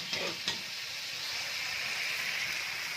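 Chicken potato masala being sautéed and stirred in a pan, a steady hissing sizzle with a couple of brief scraping knocks near the start and no talking.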